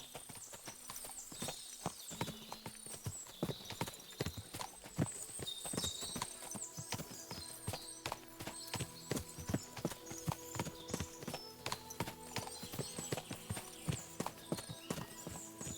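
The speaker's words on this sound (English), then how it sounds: "What a lot of horses!" Many horses' hooves clip-clop in a dense, continuous clatter in a video game, with occasional whinnies over the steady trotting of a large group.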